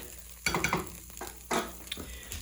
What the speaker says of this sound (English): we're going to deglaze this pan